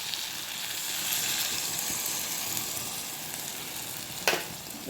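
Yogurt stirred into onions and masala frying in a pan for shahi paneer, a steady close sizzle with a brief scrape of the spoon near the end.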